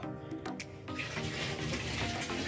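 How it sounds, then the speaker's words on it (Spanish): Water from a tap pours into a washtub being filled for laundry, starting with a brief clatter and settling into a steady, close rushing flow with no talk. "Y por acá prendo el agua."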